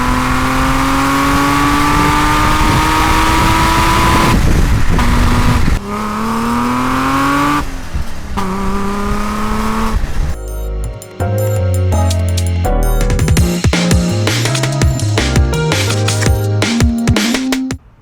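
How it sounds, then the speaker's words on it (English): A BMW E28 M5, a gray-market Euro M535i converted to full Euro-spec M5, captured by an exhaust-mounted mic: loud, crisp exhaust revving up and down repeatedly, rising and falling pitch with sharp blips and crackles, close and alone. "I heard how crispy this exhaust is, and so I figured I would replay it with just the exhaust mic"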